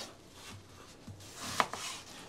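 A knife slices through crisp jicama on a cutting board: a few soft, crunchy cuts close by, ending in two sharper crunches.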